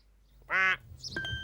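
A single loud, nasal duck quack, close by, followed by faint rustling.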